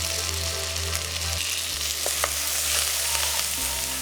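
Tomato soup ingredients with dried oregano and cayenne pepper sizzle steadily in a hot pot, a close, even frying hiss with a few small pops and no voices.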